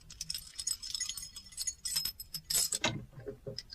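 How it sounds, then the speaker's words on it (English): Skeleton keys jangle and clink in a bunch, with a brief rattle and a louder shake near the end of the short, close-up stretch, heard alone without voices. "Now, where are the skeleton keys, so that we can open the door and not break house by the window?"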